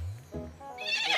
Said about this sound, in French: Un âne?